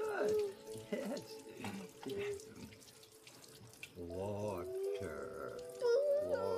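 Tap water runs into a sink in a steady, hissing stream, with someone talking over it close by.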